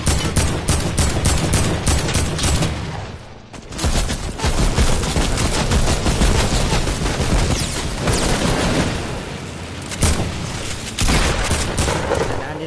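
Loud, sustained video game gunfire, rapid automatic bursts with booming impacts that break off briefly and then resume, under occasional talking.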